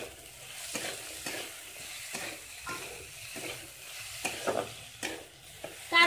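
Potatoes frying in a pan, a quiet steady sizzle punctuated by regular soft scraping stirs about every half second, ending on a sharper clank.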